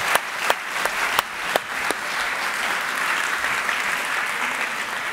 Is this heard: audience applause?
yes